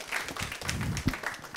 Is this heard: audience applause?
yes